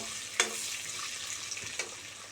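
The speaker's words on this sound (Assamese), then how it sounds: "যিহেতু পনীৰ তেল আছিলে, ৰৈ গৈছিলে পনীৰ ভজাৰ পিছত, সেই তেলতে মই দি দিছোঁ আলুখিনি" Potatoes fry in oil left over from frying paneer, giving a soft, steady sizzle with a couple of sharp clicks of stirring or spattering close by.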